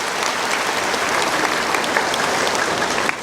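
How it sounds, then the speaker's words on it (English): An audience at a lecture event applauds as a speaker heads to the podium, a steady, dense wash of clapping from many hands that fills the whole few seconds. "Please give him a very warm round of applause"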